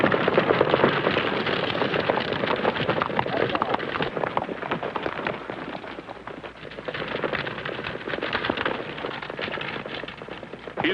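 Horse hooves clip-clop steadily across the whole stretch, a busy, dense clatter of rhythmic hoof strikes with a rumbling wash of noise beneath.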